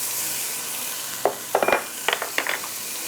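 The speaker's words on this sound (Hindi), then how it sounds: "हम आलू बुखारों को ज़रा इसके साथ भूनते हैं।" Dried plums (aloo bukhara) being fried and stirred in a pan over a steady low sizzle, with a handful of sharp spoon scrapes and taps clustered in the second half.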